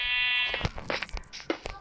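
A sheep in Minecraft gives a drawn-out electronic bleat, followed by a string of short, sharp clicks and thumps of game sounds, all close and fairly loud.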